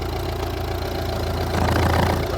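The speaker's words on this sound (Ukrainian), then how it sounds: "Мені не подобається робота двигуна" A Volvo V60 engine idles while still cold and not fully warmed, with a steady low hum that runs a little unevenly, close and alone without talk.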